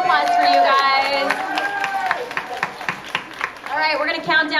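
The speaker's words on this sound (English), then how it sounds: "Give the fans another hand. A round of applause for you guys." A crowd at the NYX Face Awards 2013 event claps and cheers, a busy rumble of applause that runs beneath a host's amplified voice, which is loudest at the start and end.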